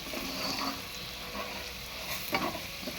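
Chili powder mixture with Kashmiri chili and green chilies fries in a pan as it is stirred, giving a steady close sizzle with scraping strokes and a sharper burst near the end.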